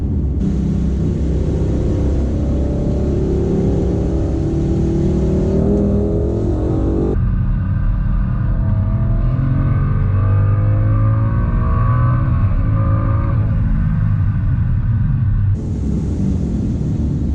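A 2018 Mustang fitted with a Procharger and a swapped-in truck motor revs and roars continuously, loud and close, the pitch climbing and falling through repeated throttle pushes with no talk.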